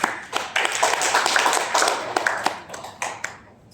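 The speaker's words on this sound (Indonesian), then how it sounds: "Kita berikan tepuk tangan pada" Audience applause at a mosque development meeting, a burst of many hands clapping with sharp individual claps standing out, fading toward the end.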